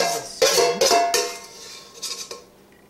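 A metal spoon scrapes and clanks against a bowl, scooping out the last of a grilled chicken salad with peanut dressing: a few sharp, close scrapes and knocks in quick succession, then quieter lighter taps.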